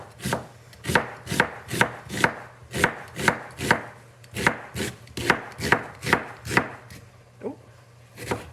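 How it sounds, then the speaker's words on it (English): A knife chops through half an onion on a cutting board in a steady, fast rhythm of about twenty crisp, close strikes, with a low hum running underneath. "Alright, I'm gonna cut up half this onion."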